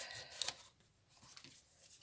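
Scissors cutting out a large paper sunflower petal, quiet close snips with a couple of sharper clicks, faint and brief.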